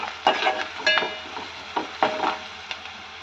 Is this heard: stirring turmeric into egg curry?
yes